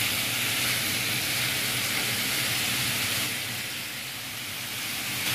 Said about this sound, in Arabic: اول لونه ما اتغير هنروح حاطين عليه بقى عصير الليمون.